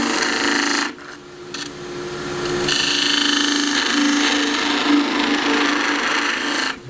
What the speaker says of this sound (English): All I want in this cut is just have the bevel side rubbing against the wood I just cut.